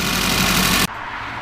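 A Volvo car engine idles after an ignition timing adjustment, giving a close, steady rumbling hum that cuts abruptly to a much quieter, low background murmur.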